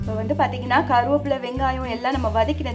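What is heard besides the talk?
No everyday noise stands out behind the speech.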